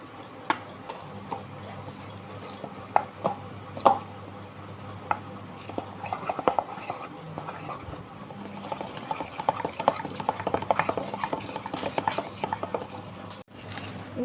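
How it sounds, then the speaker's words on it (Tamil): A spoon or whisk stirs tea cake batter with milk in a bowl, making soft, close scraping and irregular light clinks against the bowl in a busy, continuous rhythm. "இப்போ இதையும் பால் ஊற்றி நல்லா மிக்ஸ் பண்ணி எடுத்துக்கலாம்."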